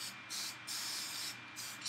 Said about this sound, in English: Just going to spray that here a bit.